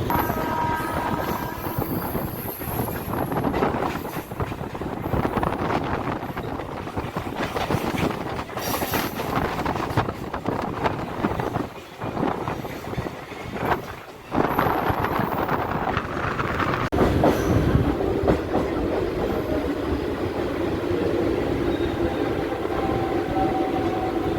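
A local train between Kolkata and Digha rumbles loudly along the tracks with rhythmic wheel clatter, rattling carriages and wind buffeting, continuous throughout at close range.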